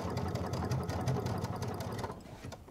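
A Baby Lock Solaris sewing machine runs steadily while stitching fabric over a bridging plate, a close, even mechanical whirr with a fast repetitive rattle that fades slightly toward the end.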